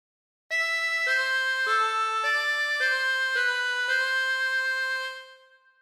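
Harmonica plays a slow phrase of God Defend New Zealand, a series of sustained, reedy blown notes stepping from one pitch to the next, clear and close, with no talk over it.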